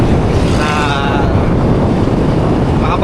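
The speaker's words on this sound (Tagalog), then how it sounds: "kung maririnig nyo dito sa video, lakas ng hangin" Strong wind buffets the microphone in a steady, loud rumble outdoors, likely during a motorcycle ride with riders of an NSS scooter club, with faint hissing texture above.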